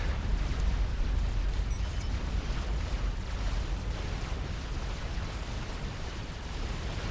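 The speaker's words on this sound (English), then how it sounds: "this firebase from Pepes is pummeling the base that Stups inherited from Zardos with artillery" A Forged Alliance Forever artillery firebase shelling an enemy base, heard as a steady rumbling roar of distant impacts and explosions with no distinct individual blasts.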